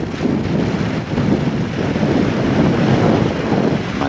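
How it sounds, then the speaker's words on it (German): Light wind buffets the microphone aboard a boat on open water off a Norwegian coast, with a continuous low rumble and small waves washing faintly underneath. "Mini-Wellen, aber dieser leichte Wind ist hier doch recht frisch."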